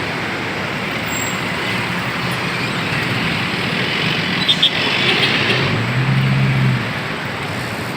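Heavy, unrelenting road traffic at a small toll gate rumbles in a continuous loud wash of engines, with a brief air-brake hiss midway and a low engine drone swelling near the end.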